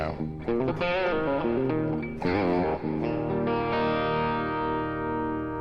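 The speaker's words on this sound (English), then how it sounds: "I think this is an AC-15 with a distortion box in front of it" Electric guitar played through a Vox AC-15 amplifier with a distortion pedal in front, loud overdriven chords and short riffs ringing out with sustained tones, no talking over it.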